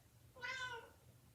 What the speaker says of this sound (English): if you can hear my cat, she's meowing